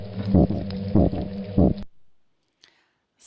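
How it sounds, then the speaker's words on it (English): Three low, buzzy grunts from a toadfish in a steady rhythm, close and resonant, then silence with a faint tick near the end. "that's a grunt"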